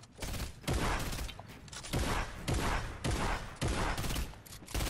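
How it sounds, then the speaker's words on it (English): Rapid bursts of gunfire in Fortnite, several loud volleys in quick succession with short gaps between them, close and dominating the scene. "they're shooting at me from the tree"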